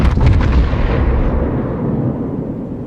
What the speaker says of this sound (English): I got more shells coming for you.